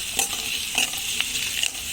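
Ginger garlic paste frying with onion in a pan, a steady sizzle broken by a few sharp spoon clinks and scrapes against the metal, close and clear.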